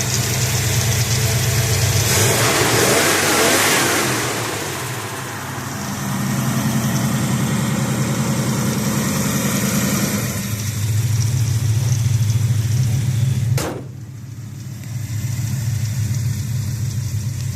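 A 1967 Dodge Dart GT convertible's high-performance 273 V8 idles with a low, steady rumble, then revs up in a few throaty bursts before settling back to idle, close by with no talking.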